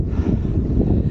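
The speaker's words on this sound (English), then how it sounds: "The wind, so flat, gets very windy." Strong wind buffeting a microphone on flat open country in the Peak District, a low rumbling roar with gusty fluctuations throughout, no voices.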